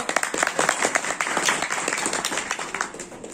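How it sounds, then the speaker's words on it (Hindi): A small gathering at a devotional session claps together, a close, moderately loud burst of uneven hand claps with distinct individual slaps, fairly steady across the moment. "तालियां बजाओ।"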